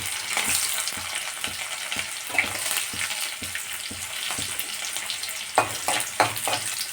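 Crushed garlic frying in hot oil for a red amaranth stir-fry, a steady crackling sizzle with scattered sharper pops and a few louder spatters near the end, close and without speech.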